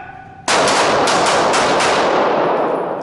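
Pistol shots at an indoor shooting range, a rapid burst of about five close, very loud cracks in under two seconds, ringing off the hard walls with a long reverberant tail.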